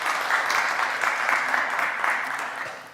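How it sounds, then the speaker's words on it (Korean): Steady audience applause at an ICT industry outlook conference, welcoming a presenter to the stage; dense even clapping from a hall crowd that eases slightly toward the end. "박수로 맞이해 주시기 바랍니다"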